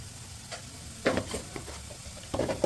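Coriander powder gets mixed into palak paneer in a pan, with soft sizzling and a few short scraping strokes of a spoon, close and moderately quiet.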